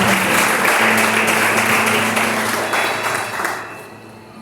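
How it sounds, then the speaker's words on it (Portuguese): A church congregation applauds, a dense, loud stream of many hands clapping with a low sustained tone beneath, fading toward the end. "Vamos aplaudir o Senhor?"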